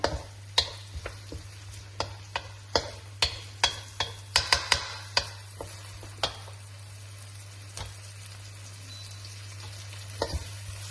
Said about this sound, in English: Let the diced onion essentially, become light brown.